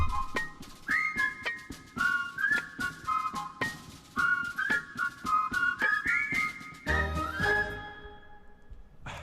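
A person whistles a wavering, tuneful melody in short phrases, with clicks and bumps around it and a brief thud near the end.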